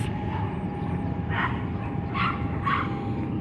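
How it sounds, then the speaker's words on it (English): Dogs bark outdoors in the distance, three short bursts of yips and barks spaced about a second apart, faint over a constant background hum. "And fucking dogs barking all day long."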